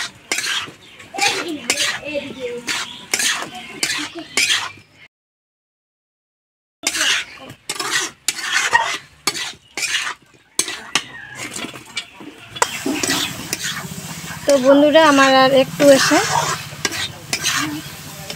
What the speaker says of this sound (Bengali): আর নেড়ে দিব আমি এখন সুন্দরভাবে, মশলাগুলো গলে যাবে এখন।